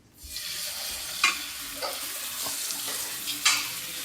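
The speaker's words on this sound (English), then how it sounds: "now we're gonna lay our salmon in our pan" Salmon fillet frying in a hot pan gives a steady, bright sizzle throughout, with occasional louder pops and spits as the oil crackles, close and with no voices.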